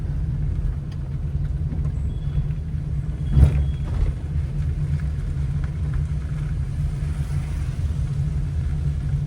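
Car driving on a road during a beginner driving lesson, its engine a steady low rumble throughout, with one brief louder bump or clunk near the middle and no speech.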